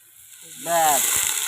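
Ginger, garlic and chili paste hits hot oil for an egg curry in a village kitchen, a sudden loud sizzle that rises after a quiet start and keeps frying close up.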